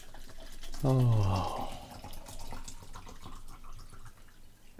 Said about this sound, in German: Ich will mir gerade Eistee einschütten.